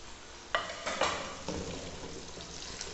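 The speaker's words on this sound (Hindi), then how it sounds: "अब आलू को प्याज के साथ अच्छे तरीके से फ्राई करेंगे" Potatoes fry with onions in a pan, giving a soft steady sizzle broken by a few louder scraping stirs, close and with no talking.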